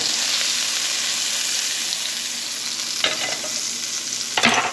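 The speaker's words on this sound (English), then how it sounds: "now I have my pan on here, heating up, and I have it on medium, and I'm gonna put a little bit of butter in here" Butter sizzling in a pan on medium heat before pancake batter goes in: a steady bright hiss throughout, with two short louder crackling bursts near the end.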